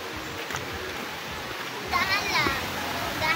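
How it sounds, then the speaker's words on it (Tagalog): Caunayan Falls pours as a steady, broad rush of water close by, with voices talking over it partway through. "ito na guys kami sa mismong falls"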